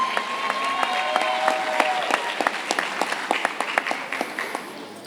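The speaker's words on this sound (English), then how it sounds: "Also, another round of applause for our scholarship recipients." Audience at a school graduation ceremony gives another round of applause for scholarship recipients, steady moderate clapping with individual claps audible, gradually thinning out toward the end.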